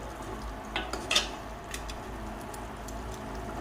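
Chicken curry stirred in a pan, a few soft scraping and clinking strokes of a spoon against the metal over a quiet, steady cooking hiss, with no talking.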